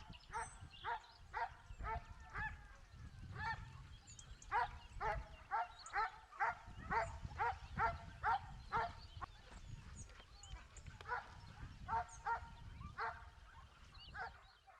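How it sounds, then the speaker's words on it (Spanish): Pack of hunting dogs barking repeatedly in bursts as they chase a wild boar during a Spanish montería hunt, several voices overlapping at varying distance with rustling between volleys. "Ahora son varios los perros que van tras el jabalí"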